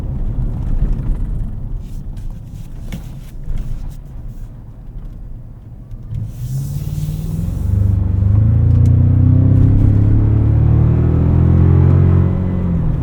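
A 2024 Toyota Tacoma TRD Pro with the i-Force Max powertrain, heard from inside while driving: a low, loud engine rumble that swells midway into a rising, droning hum as it pulls, with no talk over it.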